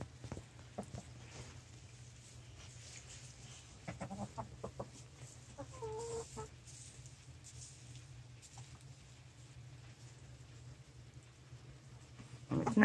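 Hens in a henhouse cluck in short, scattered bursts, fairly close but quiet, over a steady low hum, with occasional soft rustles and no talk.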